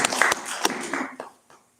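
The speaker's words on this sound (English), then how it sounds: "Everyone clap for Sai." A small audience claps at a devotional japa workshop, a brief scatter of uneven hand claps that thins out and fades to quiet within a couple of seconds.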